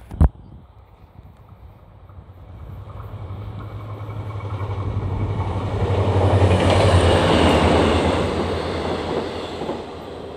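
A Korail Mugunghwa passenger train hauled by diesel locomotive 7421 passes through Hallimjeong station, starting with a sharp bang, then a low diesel rumble and rattling wheels swelling to a loud peak midway and easing slightly at the end.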